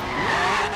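A car drifting in Forza Horizon 3 during a retro supercar championship race, a loud, sustained tire squeal with engine noise, close and continuous for under a second.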